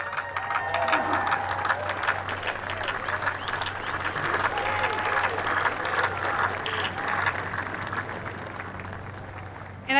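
A large graduation crowd gives parents and families a sustained round of applause for the class of 2020, steady broadband clapping lasting the full ten seconds with faint murmuring underneath.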